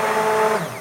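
A stick blender whirs in cold-process soap batter scented with eucalyptus, peppermint, menthol, spruce and fir, a short steady motor hum close up that winds down toward the end.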